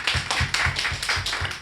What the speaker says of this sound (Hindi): एक बार तालियां बजाकर मन दें।